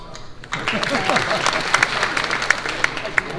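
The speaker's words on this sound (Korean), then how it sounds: "박수." Applause breaks out at a church presbytery assembly, a dense patter of many hands that swells after a brief lull and continues steadily, with a few sharper claps standing out.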